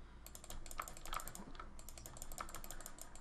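Rapid, steady clicking of a computer keyboard and mouse while playing a modded Minecraft game, a dense run of close, crisp taps continuing for several seconds with no talking.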